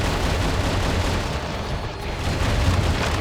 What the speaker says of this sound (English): This Gatling gun is ridiculous.